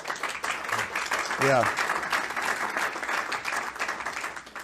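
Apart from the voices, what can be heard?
audience clapping at a hearing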